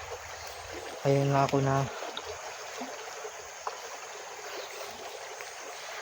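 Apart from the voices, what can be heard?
river water flowing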